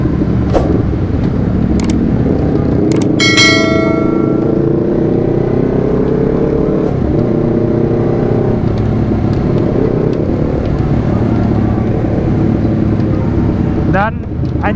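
A Honda CBR 250 RR motorcycle ridden at night, its engine droning loudly and steadily throughout with gear-shift changes and wind rush, plus a few brief sharp sounds near the start.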